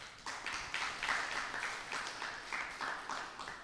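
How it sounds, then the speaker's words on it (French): Faint applause from an audience, a steady patter of many hands clapping at a distance for several seconds with no talk. "Il mérite encore des applaudissements"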